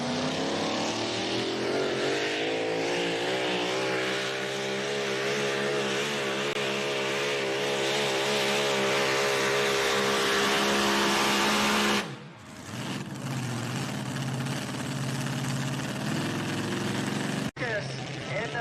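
Pulling trucks at a truck pull in Wauseon, Ohio roar at full throttle, a loud, dense engine drone that rises steadily in pitch, then cuts out sharply and comes back rough and lower before a sudden break near the end.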